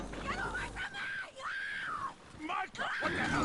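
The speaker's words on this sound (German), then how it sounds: "Wer schreit hier so rum?" A character screams in the video game Red Dead Redemption 2, giving long, wavering, strained cries in several bursts over a constant background hum.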